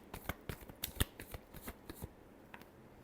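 Tarot cards being shuffled for a reading: a close, quiet series of crisp riffling flicks and slaps in an irregular rhythm, with no talking.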